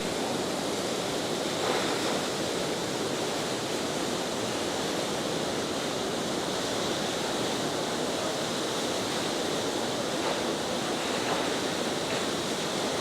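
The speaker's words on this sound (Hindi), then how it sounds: "ये एक काफ़ी बड़ा झरना बहता हुआ" A large waterfall rushes beside the Killar Kishtwar mountain road, a loud, unbroken broadband roar that stays even throughout, with no talking.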